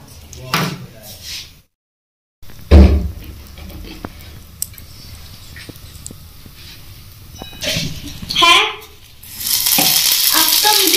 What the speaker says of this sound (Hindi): तो अब इसमें लगाएंगे तड़का।